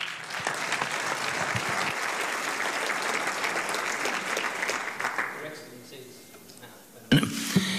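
Audience at an Arabian racehorse conference press event in Madrid applauding a former Grand National winning jockey, sustained clapping that fades toward the end before a voice begins.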